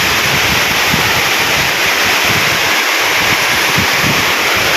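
Strong wind in open countryside during a sudden rainstorm roars steadily across the microphone, a dense continuous rush with low buffeting gusts throughout.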